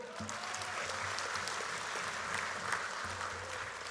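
A large political assembly claps during a party president's address, an even, sustained roar of applause with a low hum underneath and no break in the sound.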